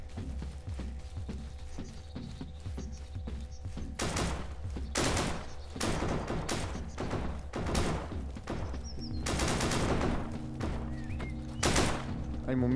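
Bots fire guns in Deadside, loud crackling volleys in several bursts, some rapid and clustered, with mechanical clicks between them and a player talking over part of it.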